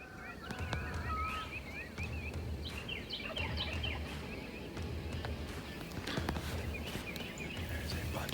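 Wild turkeys gobble on an April morning in the woods, several rattling calls at middle distance scattered over a quiet backdrop of faint rustling and other birdsong, with a low voice murmuring softly.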